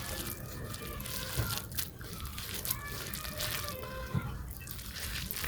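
Tap water runs steadily into a sink while food is washed by hand, with crinkling, splashing handling noises over a constant close-up wash of water.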